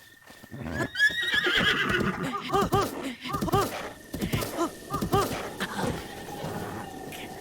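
A brown horse in the video game Zelda: Breath of the Wild neighs and whinnies repeatedly with snorts and clip-clopping hooves, while someone talks over it now and then.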